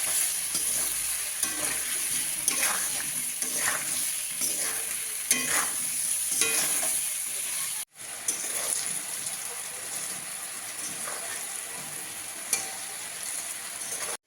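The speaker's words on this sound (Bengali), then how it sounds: "গ্যাসের ফ্লেমটা জোরে দিয়ে কচুটা ভালো করে ভেজে নেবে" Taro pieces seasoned with salt and turmeric fry in a pan over a high gas flame, sizzling steadily. Repeated scraping strokes of a stirring spatula and a brief cut partway through can be heard.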